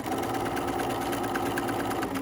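A sewing machine runs steadily while back stitching the seam of a hood, its rapid mechanical needle chatter loud, close and unbroken throughout.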